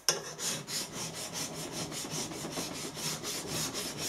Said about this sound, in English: So I'm just going to run a file across it, draw file, draw the file across.